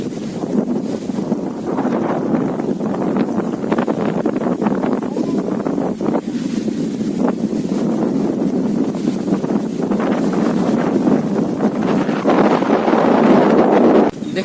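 Strong cyclone wind roars loudly and without a break, buffeting the microphone with heavy gusts throughout, with no voices.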